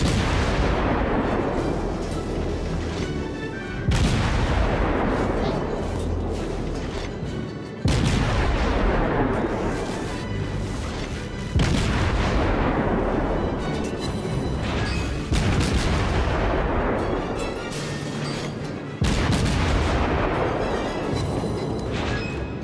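Naval artillery bombardment in a video game featuring the destroyer Farragut: a series of about six heavy, booming shell blasts, each spaced a few seconds apart and trailing into a long, rumbling decay.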